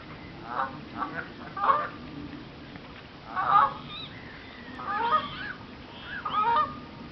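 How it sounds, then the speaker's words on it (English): Geese honk in short, scattered bursts, several calls spaced a second or two apart over a quiet, faintly hissing background. "and listen to the birds"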